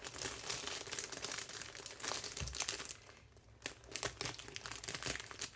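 Rose gold wrapping paper crinkles and rustles as a gift is carefully unwrapped, in close, irregular bursts of crackling with a brief quieter pause midway.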